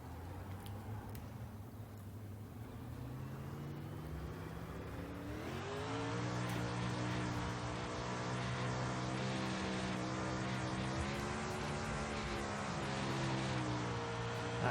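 A winged sprint car in the iRacing game drives laps at Charlotte, its engine droning with a loud, rising, strongly harmonic whine. The pitch climbs under acceleration and then holds at a high, sustained roar.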